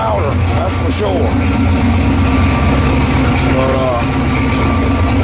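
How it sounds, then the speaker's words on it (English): A Chevrolet S10 truck idles with a new exhaust of single-chamber Flowmaster mufflers, giving a loud, steady, deep rumble close up that continues throughout while someone speaks briefly over it. "I got this exhaust finished up. She's a little louder, that's for sure."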